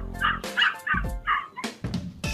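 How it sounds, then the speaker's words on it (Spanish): A dog barks four times in a steady rhythm, followed by several shorter, sharper yips; close and clear with no voices. "un perro,"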